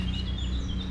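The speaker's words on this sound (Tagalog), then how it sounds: "ang maririnig mo dahil mga huni ng ibon" Small birds chirping in a lush rainy-season garden spot, faint high calls over a steady low hum of ambient background noise.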